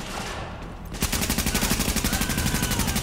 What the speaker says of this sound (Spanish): este ya está pegando tiros